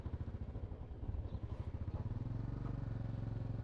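A motorcycle is ridden on a road trip toward Ayodhya, its engine putting out a close, rhythmic throbbing putter that grows steadier and slightly louder as it pulls away, with no talk over it.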